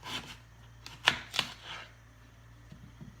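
A knife cutting a small apple into quarters, a few crisp chopping taps close by, spaced out over a couple of seconds on a quiet background.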